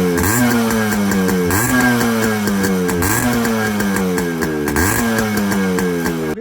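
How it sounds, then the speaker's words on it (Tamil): Yamaha RX100 two-stroke motorcycle engine beating steadily at idle with periodic throttle blips, loud and close, a raspy buzzing exhaust note running throughout with no talk. "வாங்க வண்டியோட பீட் சவுண்ட் பார்க்கலாம்."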